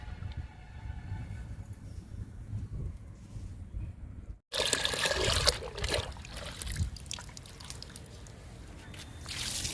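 Liquid fertilizer poured onto potted fruit plants in a garden, a steady trickling and splashing stream that starts abruptly midway and runs loud and close to the end, with low background rumble before it.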